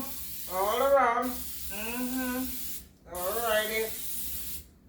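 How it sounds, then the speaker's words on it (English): Cooking spray hissing onto a baking pan for cornmeal pudding in three close, distinct bursts, with short pauses between them. "so I'm gonna spray it out all around"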